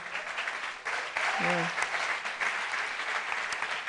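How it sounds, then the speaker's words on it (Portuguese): An audience applauding at a gathering, a dense even patter of many hands with a brief voice cutting in partway through. "Palmas para..."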